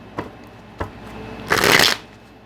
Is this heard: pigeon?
no